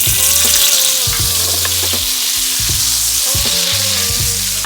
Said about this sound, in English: Next, I'm gonna go in with the butter, and this is about 1 tablespoon of butter.